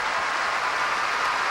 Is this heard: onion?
no